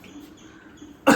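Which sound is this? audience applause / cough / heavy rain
cough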